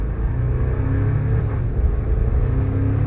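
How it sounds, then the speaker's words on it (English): A 2025 Toyota 4Runner engine drones steadily from inside the cabin as the SUV accelerates, a low, continuous rumble with no talk over it. "you can hear the engine, but the power is really nice"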